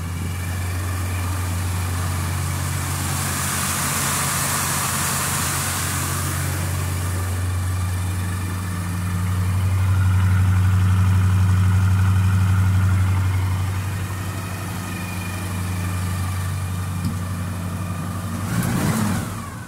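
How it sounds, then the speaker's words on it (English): A 1978 Chevrolet stepside 2WD pickup truck idles after a cold start with a steady, low, rumbling engine note. It swells into a louder revving stretch midway, then settles back to idle. "This is cold. This is a cold start."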